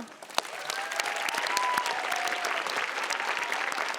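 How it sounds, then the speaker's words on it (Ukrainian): Applause from a studio audience at the X Factor Ukraine talent show, a dense, steady wash of clapping that carries on evenly for several seconds with no speech over it. "Ці оплески для тебе."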